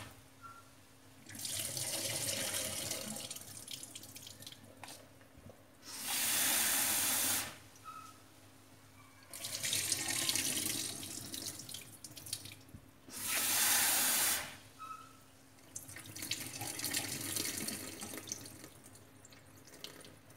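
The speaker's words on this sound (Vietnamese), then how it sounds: "Rồi bây giờ mình đi vo đậu xanh nè, mình nấu riêng đậu xanh, mình hấp riêng nha." Mung beans are rinsed in water at a kitchen sink for purple sticky rice, with a running tap gushing in four or five loud bursts between quieter stretches of swishing and dripping.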